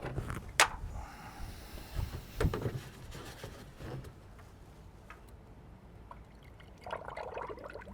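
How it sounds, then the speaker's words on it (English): Coolant is poured into the radiator of a 2002 Chevrolet Astro, a faint intermittent trickle and splash of liquid with a few clinks, close by. "We're going to top off the radiator"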